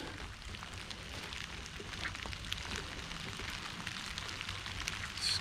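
Steady rain patters and hisses outdoors near Civil War trenches, a continuous wash of drops at moderate level with no voices.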